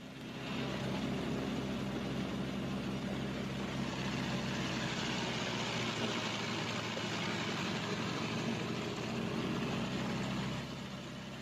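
Twin engines of a WWII bomber are run up together, producing a steady, loud, droning roar that holds at an even pitch and level throughout.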